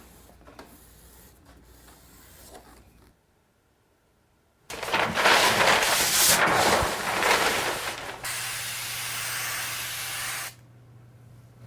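Spray adhesive is sprayed onto the back of a material for a prop replica build, a loud close hiss in two long bursts after a quiet pause, with faint handling noise before and after.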